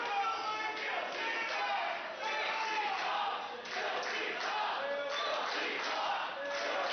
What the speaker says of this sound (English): Crowd rallying behind Filthy Tom.